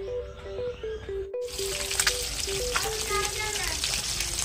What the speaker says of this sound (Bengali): আমি দাঁড়িয়ে দাঁড়িয়ে আজকে মাছ ভাজবো।